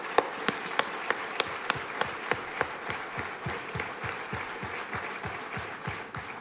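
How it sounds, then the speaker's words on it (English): An audience at a mobile hospital launch in Tamil Nadu applauds, starting with distinct rhythmic unison claps that soon blend into dense, even clapping from many hands, heard at moderate distance. "You must give them a big round of applause."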